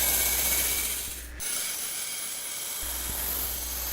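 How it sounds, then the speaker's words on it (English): A scissor blade is drawn under light pressure across the spinning diamond disc of an EM2000 honing machine, giving a steady motor hum with a gritty scraping rasp that drops out briefly in the middle. "Use a light downward pressure when drawing the scissor across the disc."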